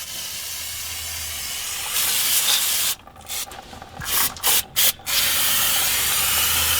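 Brake cleaner sprayed from an aerosol can onto the rear drum brakes of a 2003 Chevy S10, a loud steady hiss that breaks into several short spurts before a long continuous blast, with no talking.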